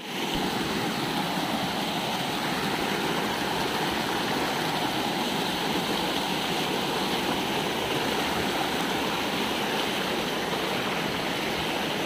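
Steady, loud rush of water pouring continuously, a broad constant roar like a nearby waterfall swollen after rain, with no voices; Bangka Bangka Falls, Pagbilao, Quezon.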